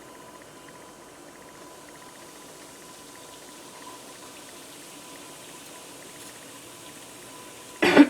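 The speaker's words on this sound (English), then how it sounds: "Alright, it's sizzling." Faint, steady sizzling and bubbling hiss of flour sprinkled into hot oil continues softly, ending with a brief louder clatter.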